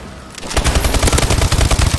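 Loud, close automatic gunfire from the video game Call of Duty Black Ops 3, a rapid machine-gun burst starting after a brief quiet moment and continuing steadily to the end.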